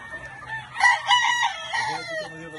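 A rooster crows loudly and close by, one long drawn-out cock-a-doodle-doo that rises and then trails off.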